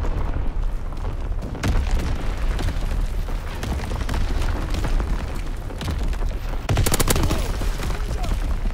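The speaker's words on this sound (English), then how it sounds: "Incoming enemy artillery." Game battle scene full of rolling booms and dense gunfire bursts, with incoming enemy artillery landing close and loud, a heavier cluster of blasts near the end, no talk.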